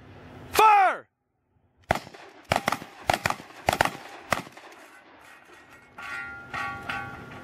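Shotguns fired in a man-versus-man shooting competition: a sharp call rings out, then after a pause several loud cracks and bangs fire in a quick irregular string, with ringing steel targets or chatter trailing afterward.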